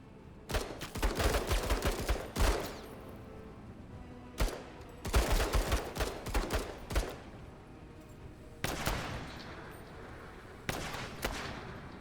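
Heavy gunfire fills a battle in the tactical video game Menace, with rapid bursts of automatic fire and loud single shots in several clusters separated by brief pauses.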